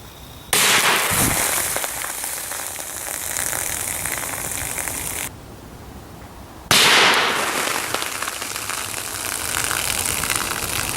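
A 300 AAC Blackout rifle fires Nosler Varmageddon bullets at a target 100 yards away, giving a loud sharp report followed by a long rough roar, a sudden drop, and then another blast with a sustained wash of noise.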